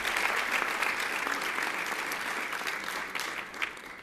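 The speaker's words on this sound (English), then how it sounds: "So let's give an applause of solidarity with the Indigenous communities." An audience at a Sikh awards ceremony applauds steadily in a large room, a dense even clatter of many hands that carries on throughout, moderately loud and tapering slightly near the end.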